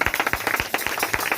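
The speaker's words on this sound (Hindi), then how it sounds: "और जोरदार ताली बजाएंगे।" A church congregation at Friday prayer claps in a quick, steady rhythm, a dense run of sharp claps filling the short moment.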